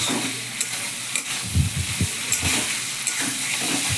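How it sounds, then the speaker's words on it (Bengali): Prawns stirred and fried in spices in a pan for a prawn and gathi kochu (taro) curry, giving a steady sizzle with scattered scraping stir strokes and clatter, close and moderately loud. "চিংড়ি মাছটা দিয়েও ভালো করে একটু নাড়াচাড়া করে নেব"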